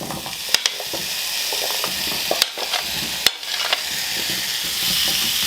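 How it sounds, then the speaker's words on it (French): Squash frying in olive oil in a pan, a steady close sizzle with a few sharp scrapes and clicks of stirring scattered through it, no voices. "je vais utiliser de l'huile d'olive pour faire poêler mes légumes"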